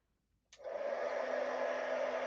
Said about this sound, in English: I'm just going to blow this with my heat tool